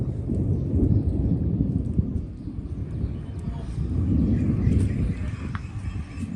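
A summer thunderstorm: steady heavy rain and a deep rolling rumble of thunder fill the scene continuously, loud and close, with no voices.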